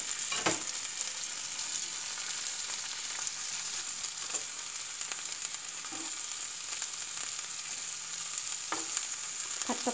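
Shrimp stir-frying with chillies in a pan for a Thai basil shrimp dish with yellow mushrooms, a steady sizzle held throughout with occasional scraping stirs, close and alone.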